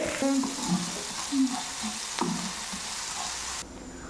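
Onions frying in a pan with a steady broadband sizzle, broken by a few soft stirring knocks and scrapes, close and moderately loud, the hiss dropping away near the end.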